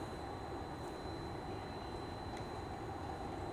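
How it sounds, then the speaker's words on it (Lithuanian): Dubai metro train ride heard from inside the carriage as a steady, dense rumble and hum with a faint high whine running through it, constant in loudness and free of speech. "Vėl metro."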